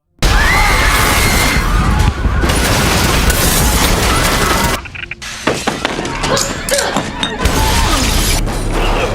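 A loud grenade blast bursts out with debris and shattering glass, a dense roar for several seconds, then scattered crashes and clatter as it fades.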